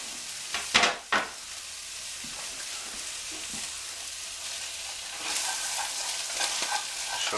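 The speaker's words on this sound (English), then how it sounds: "We're gonna throw all these nice smelling onions in here." Onions sizzling and sweating in a pan with ground meat juices, a steady close frying hiss with a few scraping stirs near the start and the sizzle swelling louder later.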